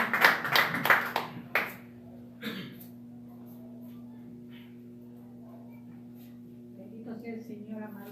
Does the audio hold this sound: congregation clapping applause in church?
yes